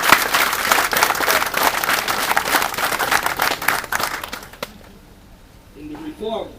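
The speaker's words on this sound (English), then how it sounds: "So I think you should give yourself a round of applause." A crowd claps for graduating recruits at the Guyana Police Force closing ceremony for recruit course 307, sustained applause for about four and a half seconds before fading to quiet, then a voice begins speaking.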